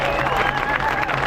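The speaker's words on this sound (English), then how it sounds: "So please give a warm round of applause" Audience applause at an outdoor rally in Geneva, a brief burst of dense clapping from a crowd, close and fairly loud, with a few voices mixed in.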